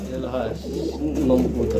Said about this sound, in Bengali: মং কবুতর